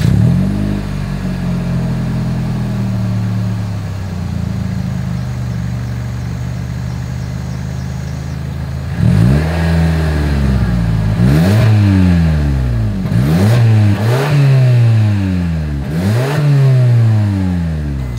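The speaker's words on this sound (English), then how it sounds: "As always, here is that exhaust clip." A 2023 Toyota Camry TRD idles with a low exhaust burble, then gives a series of four or five sharp throttle blips that rev up and fall back, loud and close with no talk.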